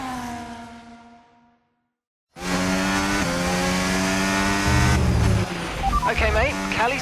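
Formula 1 race cars in the F1 25 game, a high engine whine fading away, then a loud close pass of howling engines with gear shifts and revving, under steady talk.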